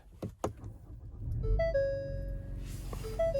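A 2024 Lincoln Nautilus Reserve III powers up from the driver's seat, a couple of soft thumps followed by a series of clear electronic startup chimes and tones over a low hum, heard close inside the cabin.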